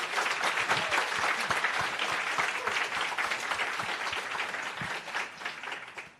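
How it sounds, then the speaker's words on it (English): Audience applause for five student teams at a Samsung Solve for Tomorrow event, dense and steady clapping filling the room for about six seconds before tapering off at the end. "let's give one round of applause for all of our 5 teams"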